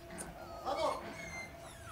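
Puppies in a TV show give faint, thin whimpers and yips, heard quietly in the background of a brief stretch.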